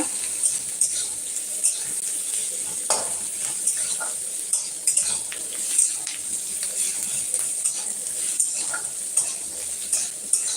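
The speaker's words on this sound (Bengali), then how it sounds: "পেঁয়াজ আমার মোটামুটি ভাজা হয়ে গেছে দেখো" Onions frying in a pan while a duck egg and pea curry is cooked, a steady close sizzle with scattered stirring scrapes and utensil clinks, no voices.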